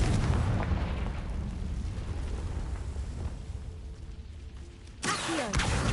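A Confringo spell explosion in Hogwarts Legacy lands as a loud rumbling blast with a rolling low roar that slowly fades, followed by a second sharp burst near the end.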